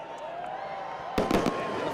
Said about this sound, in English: the fireworks are actually the ones going